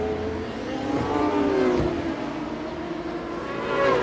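British Superbike racing motorcycles at Cadwell Park during a championship race, engines howling at high revs with rising and falling pitch as machines pass, loud and continuous with a brief surge near the middle.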